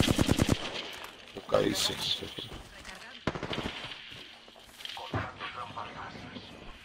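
Rapid bursts of automatic gunfire in a battle-royale shooter game, sharp rattling volleys opening the moment and scattered shots following, with a player's brief speech over the top.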